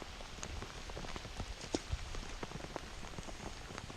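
Torrential rain falls on a golf course pond, a dense, soft patter of countless drops with a few sharper taps, steady and fairly quiet throughout.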